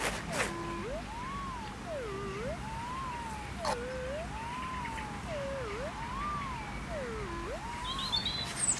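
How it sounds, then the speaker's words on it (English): A metal detector fitted with a Coiltec Mega Deep coil gives a steady, warbling target tone that rises and falls in a repeating two-note swoop, somewhat like a cuckoo, continuing for several cycles over a faint outdoor background. "here's a signal here that I think sounds like a cuckoo"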